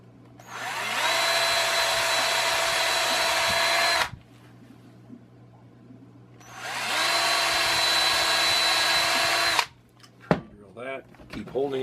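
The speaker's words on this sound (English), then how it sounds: "Drill that." Power drill boring into wood while building a walk-in humidor: two steady, loud whining bursts of about three seconds each, separated by a quiet pause, followed by a few faint clicks and knocks.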